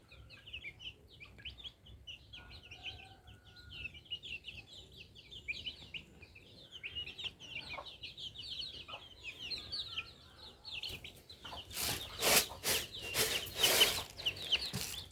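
Native country chicken chicks peep and chirp in a busy, continuous twitter at moderate distance, growing louder and joined by rough rustling noise toward the end.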